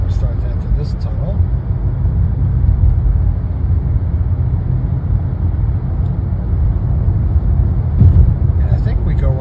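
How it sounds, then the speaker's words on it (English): Car driving into a tunnel toward Logan Airport in Boston, a steady loud low road rumble and engine drone continuing throughout, with brief faint talk near the start and end. "So we'll start to enter this tunnel."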